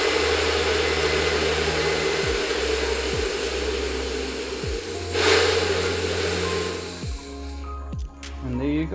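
A Seafort dive compressor hisses loudly as high-pressure air is bled off after filling a dive cylinder, with a steady machine drone and a few descending whines before the sound cuts away near the end.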